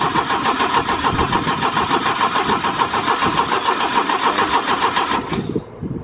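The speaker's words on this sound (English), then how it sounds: "just keep it cranking" A long-dormant Opel GT, unstarted for 24 years, cranks steadily with a loud rhythmic starter churn that carries on without catching, then cuts off near the end.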